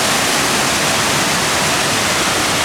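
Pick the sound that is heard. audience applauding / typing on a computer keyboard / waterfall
waterfall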